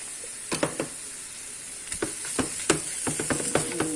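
Corn fried rice, with masala added, is stirred and mixed in a hot pan, giving a steady close sizzle broken by a string of sharp scraping clicks from the spoon against the pan.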